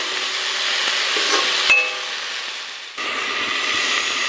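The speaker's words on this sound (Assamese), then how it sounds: "এতিয়া বঢ়িয়া কৰি ভাজি আছোঁ" Mixed vegetables sizzle and fry steadily in a pan, with a brief stirring clatter partway through; the hiss stays close and continuous, with no talking.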